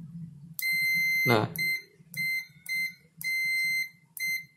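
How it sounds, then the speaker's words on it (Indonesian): A multimeter on continuity mode beeps while the button on a Vitamer VIT-SO11 blender controller board is tested. Several sharp, loud beeps of varying length start and stop, with a brief clatter and a low voice underneath. "Jadi kalau tekan dia bunyi, artinya dia nyambung bener gitu loh si tombolnya."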